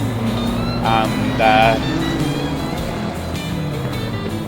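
McLaren race cars idle and rumble on the grid while warming engines before a rolling start, a steady low engine drone with brief louder revs, heard under a commentator's voice.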